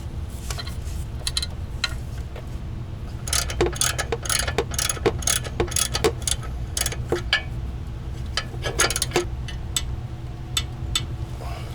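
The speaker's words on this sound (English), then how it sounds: "So we're in the process of torquing this down." Ratchet wrench clicking while torquing pressure plate bolts during a Jeep TJ clutch and transmission swap, rapid close pawl ticks in bursts over a low steady hum.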